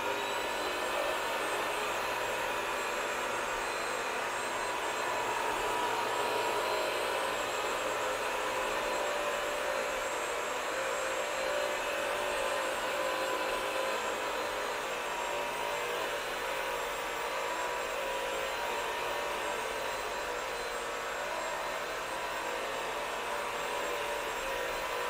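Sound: Bissell Crosswave Pet Pro wet floor cleaner running

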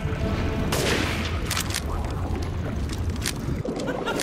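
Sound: weapon gunfire in the video game Resident Evil Village

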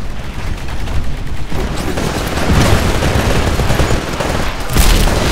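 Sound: gunfire from a gun in the video game Titanfall

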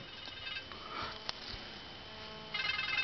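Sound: phone ringing

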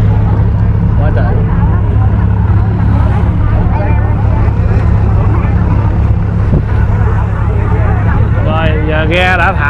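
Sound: boats released and moving at sea festival

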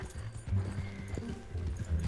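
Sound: horse hooves in the video game Red Dead Online

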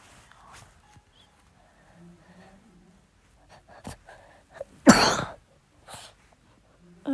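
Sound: coughing

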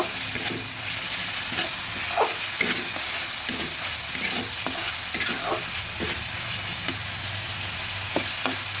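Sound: onions frying for fish curry

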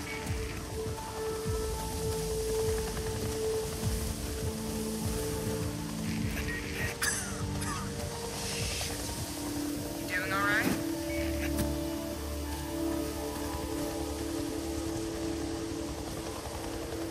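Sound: rain falling in a video game

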